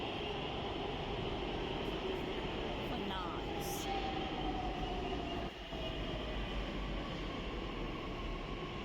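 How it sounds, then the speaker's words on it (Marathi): Pune Metro train arriving at a station, a steady loud rumble and rising electric whine filling the platform, with a brief chime partway through and some speech-like murmur mixed in. "आणि बघा आता मेट्रो आलेली आहे"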